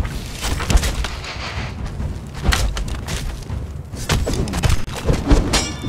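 Gunfire aimed at the player in the video game Conan Exiles, during a raid on a black galleon: a run of heavy booming shots and thuds, loud and near, landing in quick irregular succession.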